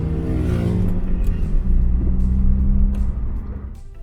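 A Honda K20-engined car with a modified intake pulls away, its deep rumbling engine note loud and close at first, then easing off as it drives off.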